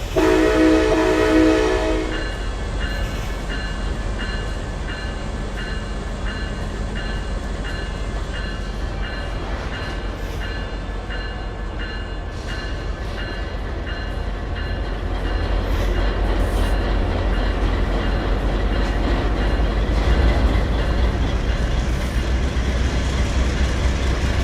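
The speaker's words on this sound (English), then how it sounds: "Now listen to that chug." Train rumbling and chugging along the rails in the Trainz railway simulator game, a steady loud low rumble with a brief horn-like tone at the start.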